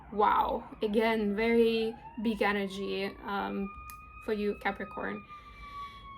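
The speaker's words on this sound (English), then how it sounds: "Sorry about the sirens, guys, nothing I can do." Emergency vehicle sirens wail and glide in pitch outside, rising faintly behind a person talking close by and continuing after the speech pauses.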